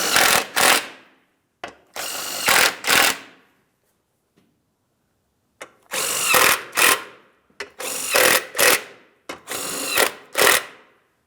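Power tool driving shield mounting bolts under a 2007-2014 GMC Sierra 2500 HD, five loud whirring bursts, each rising and cutting off sharply, with a longer quiet gap in the middle.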